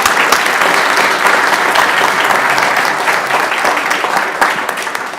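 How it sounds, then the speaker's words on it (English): Loud, sustained applause from a school board meeting audience, dense clapping that holds steady and starts to taper slightly near the end. "let's give them a round of applause."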